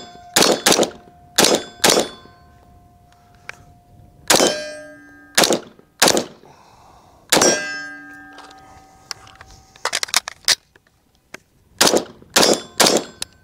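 Gunshots from an IWI Carmel rifle, a dozen or so sharp, loud reports fired in irregular bursts of two or three with brief gaps between, each ending in a metallic ring and a short echo.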